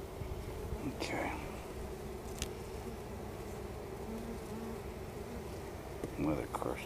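Honeybees buzz steadily around an open hive during an inspection, a continuous close hum with a few louder passes near the start and end.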